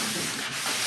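A sanding block rubs back and forth along the grain of sealed, varnished wood in a Montana homestead interior, giving a close, continuous, even scratching hiss with no speech.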